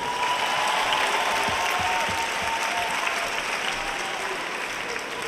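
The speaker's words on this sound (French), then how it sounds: "Est-ce qu'on peut les applaudir?" Loud, continuous clapping from a large evening audience at a gathering, a thick even wash of hands that holds steady throughout with faint crowd noise.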